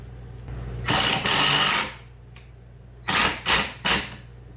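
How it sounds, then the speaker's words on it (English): A cordless impact driver sinks construction screws to mount an attic fan, with one longer burst of whirring and hammering, a short pause, then three quick separate bursts, close and loud. "Got an impact driver."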